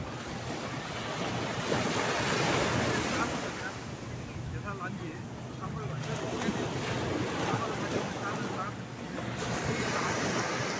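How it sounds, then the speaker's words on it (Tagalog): Ocean waves slosh and break continuously in the late afternoon near two ships at sea, a broad, steady wash of surf and wind rising and falling in gentle swells. "Ampas ng tubig ang maririnig ng karagatan."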